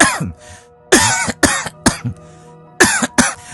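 Several harsh, close coughs come in short bursts with brief pauses between them, some sounding like throat clearing.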